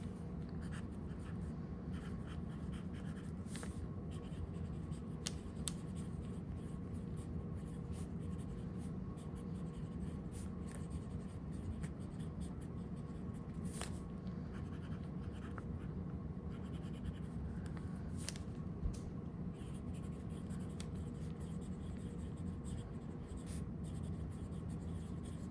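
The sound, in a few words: broad nib fountain pen writing on paper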